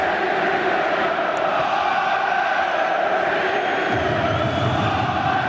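A large stadium crowd of Bochum fans roars and chants continuously in a dense, sustained wall of voices from a distance, at a Bayer Leverkusen versus VfL Bochum Bundesliga football match.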